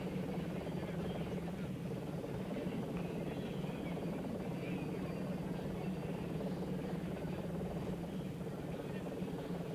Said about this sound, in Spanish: vemos en esta imagen aérea al helicóptero